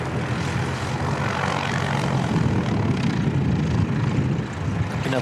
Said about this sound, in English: Another ATR heading out.